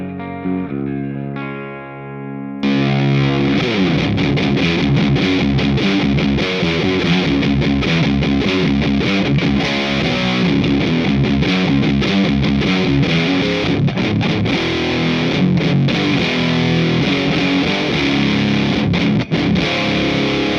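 An electric guitar runs straight through a Wendigo Silicon Fuzz demo amp rig with no pedal engaged, opening with a few picked notes before loud, busy strummed chords and riffs continue for about twenty seconds, close and without talk.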